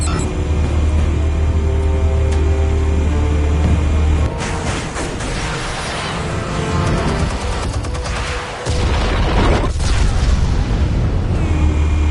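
Explosives detonate in a Batman video game with heavy, sustained booming rumbles and layered blasts that continue loudly through the whole stretch, with no talking.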